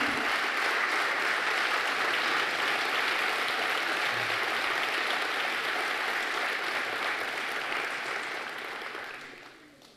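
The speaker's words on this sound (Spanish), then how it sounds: "Dale un fuerte aplauso a Jesús" A church congregation applauds together during a Sunday service, a broad sustained wash of clapping that holds steady and then fades away at the end.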